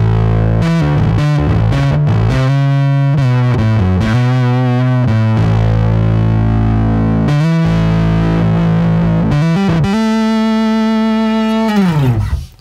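Bass guitar played through a Catalinbread Giygas fuzz pedal with EQ, mids and blend set around halfway, thick distorted sustained notes and a quick run of short plucked notes, loud and close with no talking.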